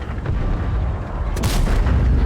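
A tank cannon fires in World of Tanks, a loud boom with a sharp blast partway through over a constant heavy engine rumble, no talk.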